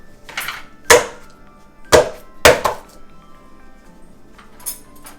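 Farmer cheese mashed with a fork in a bowl, a few distinct knocking thunks and clinks of metal against the dish spaced a second or so apart, close and fairly loud in a quiet kitchen.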